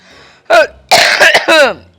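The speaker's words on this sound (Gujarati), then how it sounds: "ઉધરસ થઈ ગઈ?" Several close, harsh coughs in a short burst, with a brief pause between the first cough and the rest.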